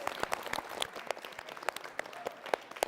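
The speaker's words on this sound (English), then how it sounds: "give her a round of applause" Round of applause from a quiz-show audience, a steady patter of many hands clapping at moderate loudness with scattered sharper claps, alone without talk.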